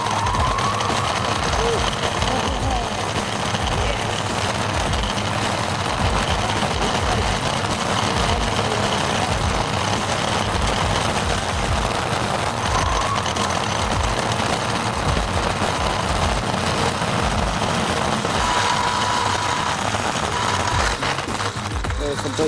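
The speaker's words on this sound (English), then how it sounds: "So it is fully running on the motor power right now." Steady loud drone of a DIY 1800W brushless electric scooter driving under motor power, a continuous hum and rumble with road and wind noise, and a voice speaking over it.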